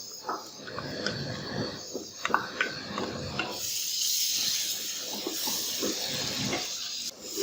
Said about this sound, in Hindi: जब प्याज का कलर गोल्डन ब्राउन हो जाए तब ऐड करेंगे अदरक और लहसुन का पेस्ट 1 कप